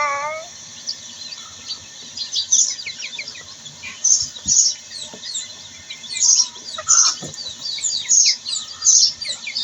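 Fayoumi chicken chicks peep repeatedly in high, thin chirps, close by and fairly loud, coming in bursts with soft shuffling underneath.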